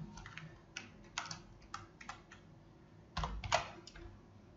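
Typing JavaScript code on a computer keyboard, with bursts of quick, close keystrokes that pause and resume, louder near the end, and no talking.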